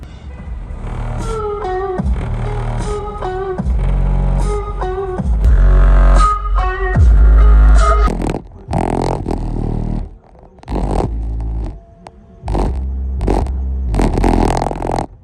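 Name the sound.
DL Audio subwoofer playing in a Toyota Camry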